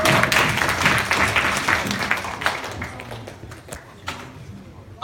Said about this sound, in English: invite everyone to give them another round of applause